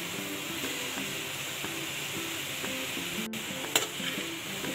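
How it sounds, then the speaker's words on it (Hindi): Vegetables and shredded cabbage being stir-fried with chicken in a pan for spring roll filling, a steady close sizzle with soft rhythmic scraping of a spoon stirring throughout. "सब्जियों को चिकन के साथ भूनेंगे अच्छी तरह। मैं इसमें बंद गोभी डाल देती हूँ,"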